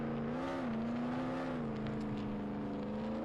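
A vehicle spawning and running in Roblox Jailbreak, a steady in-game engine hum with a slight rising pitch near the start, continuous and fairly loud, no talk.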